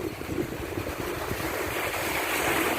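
Rough sea waves wash at Maragondon Sanctuary in Cavite, a continuous near rush of surf mixed with wind buffeting the microphone.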